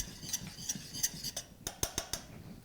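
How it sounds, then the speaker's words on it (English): Worcestershire sauce and Dijon mustard are stirred together for a beer cheese sauce, with a spoon clinking and tapping against a bowl in a quick, irregular series of light, bright ticks. "Mix this all together."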